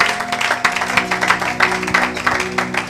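Congregation in a church clapping together, a rhythmic burst of hand claps over sustained music tones, steady and fairly close throughout the short stretch.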